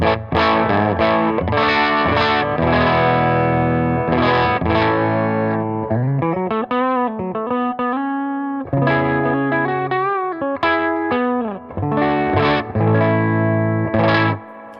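Overdriven Fender American Professional Classic Stratocaster chords and riffs through a Milkman 10-watt amp, with a gritty, distorted tone and a thick lower midrange, played steadily with no talking.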